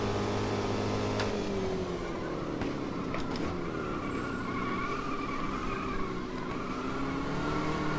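Stock car engine in a racing video game, a steady continuous drone with shifting pitch as it drives and revs, loud and constant with no talk over it.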